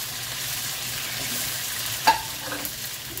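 Onions, tomato and green seasoning fry in a pot, giving a steady close hiss of sizzling with one brief knock of a utensil near the end and no talk.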